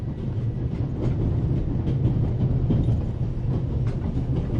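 Steady low rumble of a train running in The Raven Remastered video game, with a continuous rolling drone and faint rhythmic clatter and no talking.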